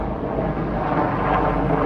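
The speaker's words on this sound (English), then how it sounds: "Oh, there's a helicopter up there." A loud, broad roar of a helicopter passing overhead above a neighbourhood street, steady and rumbling with a slight swell.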